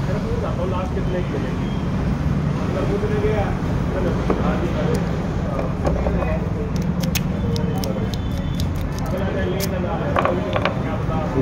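A metal key slides and clicks into the door lock of a white Mahindra Xylo during lock repair, a run of small ratcheting clicks close by with voices and traffic noise underneath.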